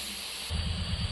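Butterfly pea flower juice starting to boil in a wok, a steady hiss that swells into a bubbling sizzle halfway through.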